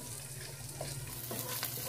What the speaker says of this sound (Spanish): Agregamos el resto de aceite de olivo y vamos a sofreír el ajo